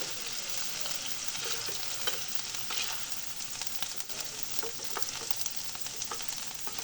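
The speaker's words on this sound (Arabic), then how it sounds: "غادي نديرهم يتشحروا مع هاد الزبده." Chicken breast or thigh sautéing in butter in a frying pan, a steady close sizzle with scattered crackles and pops and no talking.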